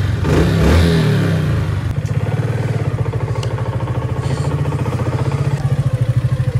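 A motorcycle engine revs up close and then settles into a loud, steady, throbbing idle that pulses with a rapid rhythm, with no talking.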